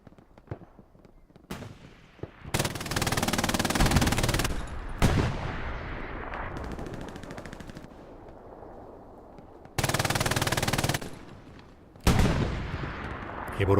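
Long, loud bursts of automatic machine gun fire from an MG position in the WWII shooter Hell Let Loose, several sustained volleys separated by brief pauses, with a distant rumble of battle in between.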